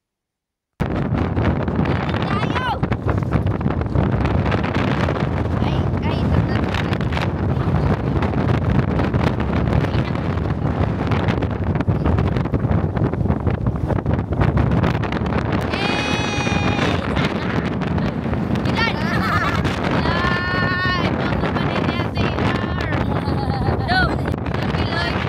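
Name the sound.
strong wind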